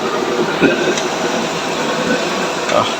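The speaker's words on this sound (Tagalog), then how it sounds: "Tapos yung blower natin ay kalahati lang." A blower runs at half power on a heavy-duty boom fire stove, making a steady, broad, airy roar that holds level throughout, with a voice talking over it.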